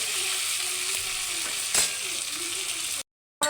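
Onions, green chili and tomato sizzle steadily in a pan while being stirred, a continuous close frying hiss with occasional scraping knocks, then a sudden brief cutout before the sizzle returns.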